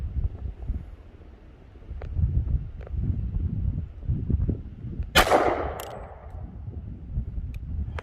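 One loud gunshot from a Smith & Wesson M&P .40 with Speer Lawman 180 grain full metal jacket ammunition cracks out over wind and low outdoor rumble, then fades quickly.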